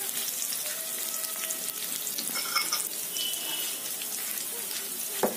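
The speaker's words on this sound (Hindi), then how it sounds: "साबुत जीरा डाल देने के बाद मैं इसमें डाल दे रही हूँ अदरक और लहसुन, जो कि मैंने लंबे में काट रखा था।" Ginger and garlic cut into long strips frying with whole cumin in refined oil, a steady hiss and sizzle running throughout with faint clinks of stirring, close and moderately loud, with no talking.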